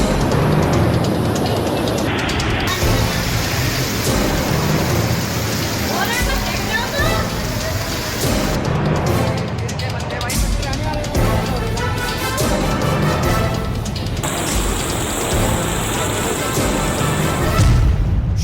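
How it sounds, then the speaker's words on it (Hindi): Heavy monsoon rain falls across a flooded city in Gujarat, a dense, continuous hiss and rumble with traffic noise, heard under a steady voice talking throughout. "गुजरात के कई शहरों में झमाझम बारिश हुई है।"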